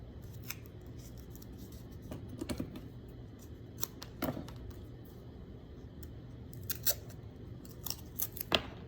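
Scissors snip a vase shape out of a sheet for a coil-pot lesson, giving quiet, irregular cuts and crisp clicks spread over several seconds, with no talking.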